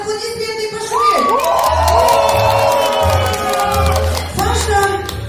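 A banquet audience cheers, shouts and applauds after a dance duo performs, a loud sustained crowd roar with whoops and clapping that swells, dips and rises again.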